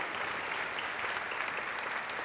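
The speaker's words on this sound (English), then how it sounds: "Yeah, you can clap, definitely." An audience at a smart cities conference applauds steadily, a soft, even wash of many hands clapping at a distance, with no voices over it.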